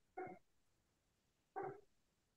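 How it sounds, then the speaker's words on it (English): A neighbouring dog barks twice, each a short muffled woof heard from a distance through walls, separated by more than a second of quiet room tone. "Hey, I hear your dog barking."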